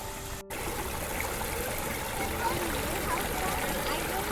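Creek water trickles and burbles steadily as children build a dam, a soft continuous flow close by with faint voices and activity around it.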